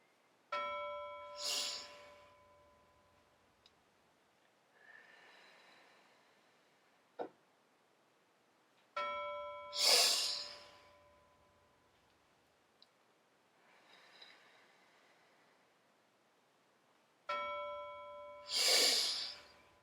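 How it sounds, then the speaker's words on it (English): A bell rings three times at slow, even intervals, each ring followed by a slow, deep breath drawn in and then let out, close and quiet in an otherwise calm space. "you'll hear a bell and breathe in as you hear it, and slowly breathing out will help you cool your body."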